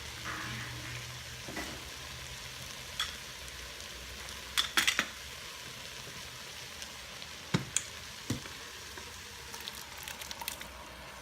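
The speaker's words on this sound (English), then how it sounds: "the Smokies are all heated up and the onions are all transparent, and now I'm going to add the baked beans" Baked beans going into a Ninja Foodi pot of heated smokies and softened onions, with a steady low sizzle and a few sharp clinks of a spoon against the pot, no talking.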